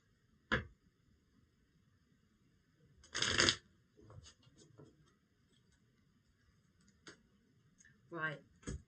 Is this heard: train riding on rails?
no